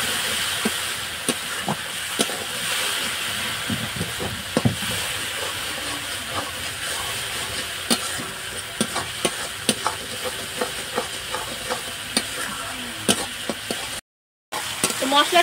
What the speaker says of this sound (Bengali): চামচ লঙ্কার গুঁড়ো দিয়ে ভালো করে মশলাটা একটু কষিয়ে নিচ্ছি